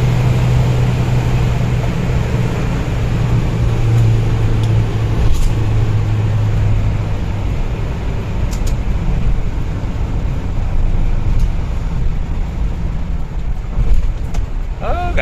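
A 2018 Isuzu Panther's engine drones steadily as the car accelerates along a road, a continuous loud hum with low tonal rumble throughout, with no clear gear changes.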